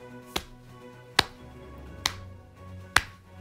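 Hands tapping slowly on a lap to imitate the start of rain make four sharp, evenly spaced pats, close and distinct against a quiet background.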